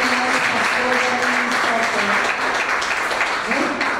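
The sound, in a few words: church congregation applause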